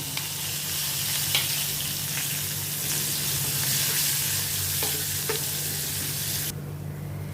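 Chopped green chili sizzles and fries steadily in a hot pan for an Indian potato curry, a close, continuous crackle with a few faint utensil knocks, cut off abruptly near the end.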